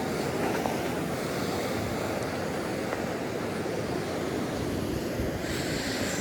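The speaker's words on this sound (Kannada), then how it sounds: "ಅಲೆ ಎಲ್ಲ ಜಾಸ್ತಿನೇ ಬರ್ತಿದೆ" Sea waves roll in at Honey Beach in Ankola, a continuous wash of surf with wind buffeting the microphone, steady and fairly close with no voices.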